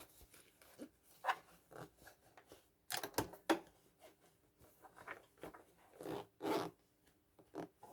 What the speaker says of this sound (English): I just have to close the zip